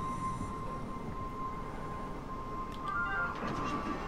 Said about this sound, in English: I'm not sure I trust the shuttle train